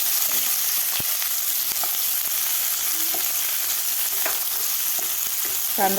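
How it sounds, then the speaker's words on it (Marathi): Two finely chopped medium onions frying in hot oil with cumin seeds for broccoli bhaji, a loud continuous sizzle close up with scattered light clicks and taps from the pan. "आता यामध्ये मी दोन मिडियम साईजचे बारीक कापून घेतलेले कांदे घालणार आहे"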